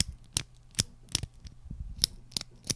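A Rotring 800 mechanical pencil tip retracting and extending, crisp sharp clicks repeated about seven times in an uneven rhythm, close and clear with no voices.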